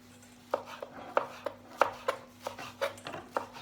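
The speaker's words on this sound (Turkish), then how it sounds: "Bunu ince bir şekilde kıyacağım böyle keseceğim." A knife finely chopping a handful of parsley on a cutting board, a dozen or so crisp, close taps in an uneven rhythm over a low steady hum.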